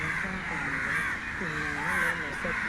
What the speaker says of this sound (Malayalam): അപ്പോൾ കിളികൾ കൂട് കൂട്ടാനായിട്ട് വന്നുകൊണ്ടിരിക്കുകയാണ്.